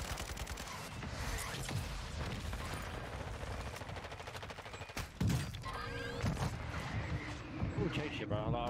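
Mortar fire and heavy gunfire in Call of Duty: Vanguard on Vondel Park sound as a dense, steady clatter of shots with a sharp thump near the middle.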